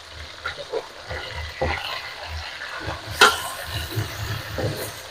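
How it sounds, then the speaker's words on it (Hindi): Chira fish sizzles and crackles in a frying pan, a steady soft frying hiss broken by light scraping and occasional louder pops. "मछली को पकते हुए 1 मिनट हो गया है।"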